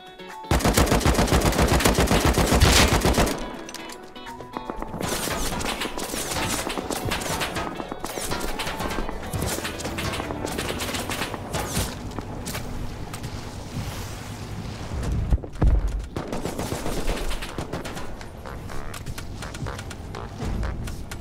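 Gunfire from the survival video game Rust: a long, dense run of loud rapid automatic shots in sustained bursts, with a brief lull near the start and another short gap later.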